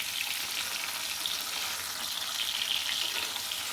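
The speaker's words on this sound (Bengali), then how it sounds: "আমার ভেন্ডিটা ভেজে নেওয়া হয়ে গেছে" Okra fries in a pan with a constant, fairly quiet crackling sizzle that holds steady throughout.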